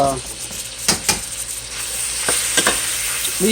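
Small multicoloured sweet peppers stirred into ground beef and turkey in a frying pan, a loud close sizzle broken by quick scraping stirs and spatula knocks.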